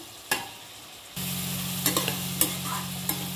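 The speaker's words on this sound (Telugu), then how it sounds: "వెజిటబుల్ బాగా వేగనివ్వాలి" Mixed vegetables frying on high heat in a pan, a steady loud sizzle starting abruptly after a quiet moment, with a few sharp clinks and scrapes of stirring on top.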